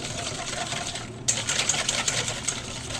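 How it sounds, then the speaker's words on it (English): A whisk beats a cornstarch mixture vigorously in a bowl, making a fast, even rattle of rapid strokes close by that carries on without a break after a short pause. "Now you're gonna whisk this vigorously."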